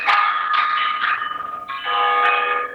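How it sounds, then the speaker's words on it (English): University bell tower bells chime outside a student center during a spring concert on the lawn, several loud sustained tolls ringing one after another with overlapping resonant tails. "the bell tower is going off right now"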